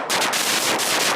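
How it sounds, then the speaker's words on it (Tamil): Diwali firecrackers, a string of saravedi crackers, burst in rapid continuous crackling during a Thanjavur street celebration, loud and close, like dense machine-gun fire. "ஒரு சிறுவர் பார்த்தீங்கன்னா உற்சாகமாக அந்த பட்டாசு வெடிக்கக்கூடிய நம்ம காட்சியை பார்க்குறோம்."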